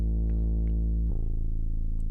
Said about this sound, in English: Sub bass.